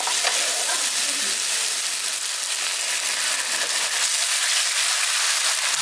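Masala of onion, ginger, garlic and tomato frying in a pan as ground spices and a little water go in, giving a loud, dense, continuous sizzle and bubbling up close with no talking.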